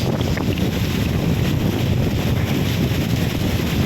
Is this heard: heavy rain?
yes